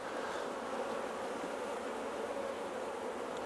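Honey bees buzz steadily around frames lifted from an open hive, a dense, even drone that holds close and continuous throughout.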